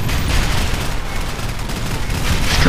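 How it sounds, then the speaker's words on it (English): A machine gun turret firing in the video game Nuclear Dawn, a loud unbroken stream of rapid shots that fills the short span with no speech. "We still got a machine gun turret there."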